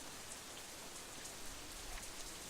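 Steady rain ambience from the video game Katawa Shoujo, a dense even hiss of falling drops on a surface with no thunder or voices.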